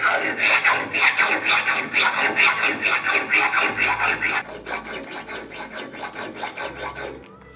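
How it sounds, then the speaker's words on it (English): A metal file rasps back and forth across a hardened Damascus steel Bowie knife blade in steady repeated strokes. The sound is close and harsh, then turns thinner and lighter as the file skates. "you can hear the file skating on the metal a little bit more"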